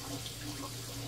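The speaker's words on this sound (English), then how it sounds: "I rinse with hot water" Hot water runs steadily from a tap while a safety razor is rinsed, a continuous close splashing hiss with no talk.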